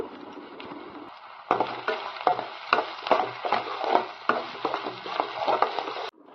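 Onions frying for egg curry, stirred in a hot pan: a soft sizzle, then a louder crackling burst as they go in, followed by rhythmic scraping strokes over continuous frying, close up with no talk.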